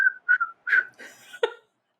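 A man imitates a whistle with his voice, producing four or five short shrill whistled bursts separated by brief pauses, close and clear against silence.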